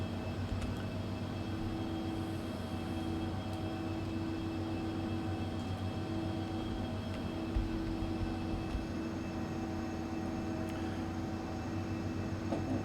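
ERJ 135 jet engines spooling up in a flight simulator as the throttles advance, giving a steady, continuous turbine hum and drone throughout with no talking.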